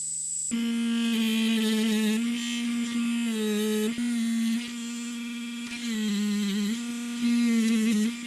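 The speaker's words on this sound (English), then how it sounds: "That's just a buffing wheel." A buffing wheel on a rotary tool polishes a part of a 1938 Parker Royal Challenger fountain pen, a continuous close motor hum whose pitch wavers slightly as pressure changes.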